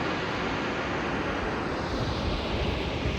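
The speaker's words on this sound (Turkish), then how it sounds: "İşte şelale" A Norwegian waterfall in open countryside pours with a steady, dense roar of rushing water that fills the whole span without a break, close and loud, with no voices over it.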